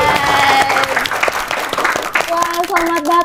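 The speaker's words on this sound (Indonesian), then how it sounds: "Kita kasih tepuk tangannya untuk" An audience applauds Mahraj on the Ruang Temu podcast, a loud wash of clapping mixed with a voice, tonal music-like sounds and other voices on top.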